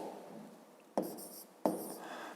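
A pen scratches across paper in two brief strokes, each a quick scratchy burst, heard close up beneath a soft steady background hum.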